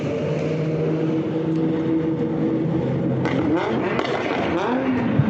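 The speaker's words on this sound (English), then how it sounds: "Big pops and bangs from that VQ." A VQ-engined drift car at Orange Show Speedway during Ultimate Drifting Challenge qualifying roars loudly with a dense, continuous engine note. Pitch sweeps and sharp crackling bursts come near the end, heard alone without talk.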